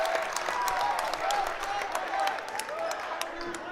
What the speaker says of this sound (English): The home crowd loves it.